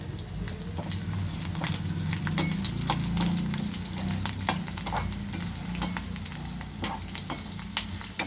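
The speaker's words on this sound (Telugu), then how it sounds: "అంతా ఈవెన్గా వేగేలాగా వేయించుకోవాలండి" A tempering for curd rice fries and is stirred in a pan with the stove turned off, giving a continuous, moderate sizzle close by, punctuated by regular sharp spatula scrapes and taps.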